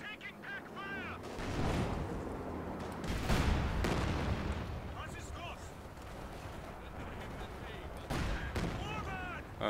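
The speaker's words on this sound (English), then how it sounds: "I'd really love to know what's firing those rockets at my infantry. They got tons of artillery and stuff, dude." Artillery barrages and rocket fire in the World War II strategy game Company of Heroes 2, a dense rumbling stream of booms and blasts running throughout, with a voice talking over the battle in places.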